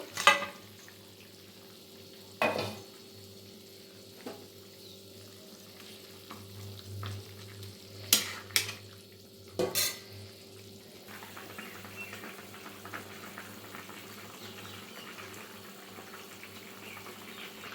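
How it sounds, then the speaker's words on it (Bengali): Water coming to a boil in a pan for rohu fish curry with ridge gourd, a faint steady bubbling hiss broken by a few sharp clanks of a utensil, no voices. "দু মিনিট জাল দেওয়ার পরে দেখুন কত সুন্দরভাবে ফুটে উঠেছে জলটা"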